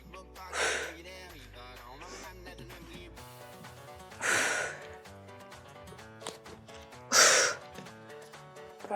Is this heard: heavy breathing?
yes